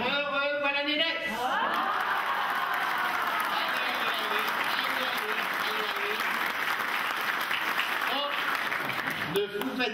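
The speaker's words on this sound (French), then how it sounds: "il ne faut pas que les gens ils applaudissent trop longtemps" Applause from an audience at a live comic show in the north of France, sustained and fairly loud, with a voice speaking over the clapping at the start and end.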